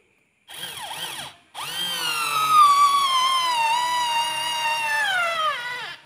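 A cheap cordless screwdriver drill drives a bolt, a close, loud whine that spins up briefly, stops for a moment, then runs again steadily for about four seconds, its pitch sagging slightly under load before winding down.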